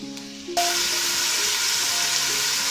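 Garlic-ginger paste hits hot oil with a sudden loud sizzle that holds steady and bright, a crackling frying hiss with no voices over it.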